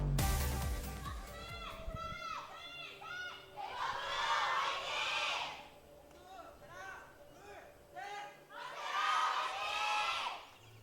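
At an Overwatch APEX esports match, two swelling waves of crowd cheering and shouting rise and fade in the arena, with commentators talking over the noise.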